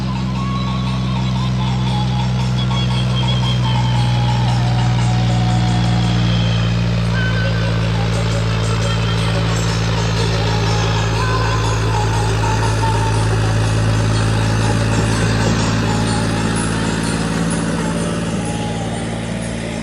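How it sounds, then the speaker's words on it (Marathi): A tractor engine labouring as it climbs a slope, a loud, continuous low drone that holds steady throughout, with voices talking over it at times. "फायनली आम्ही ट्रॅक्टर चढला बरं काय"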